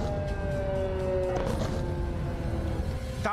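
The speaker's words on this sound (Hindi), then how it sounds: "गाजा की सायरन का शोर अब इजराइल की राजधानी तेल अवीव में भी सुनाई दे रहा है" An air raid siren sounds in Tel Aviv as a steady, continuous wailing tone held at even loudness throughout, with faint background noise beneath it.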